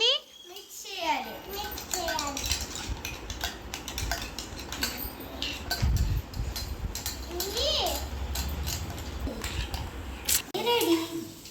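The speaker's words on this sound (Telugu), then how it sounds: "అన్నీ మిక్స్ చేయాలి." Utensils clinking and scraping as food is mixed in a bowl during an Ugadi festival gathering, a busy series of metallic clatters close by, under children's chatter and play.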